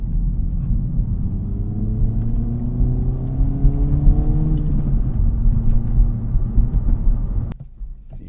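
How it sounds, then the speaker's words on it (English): Acura Integra Type S front-wheel-drive car launching with wheel hop, a loud close engine revving up with rumbling, juddering drivetrain noise before an abrupt cut near the end. "See how we can launch this thing. Front wheel drive is hard to launch. Whoa, wheel hop."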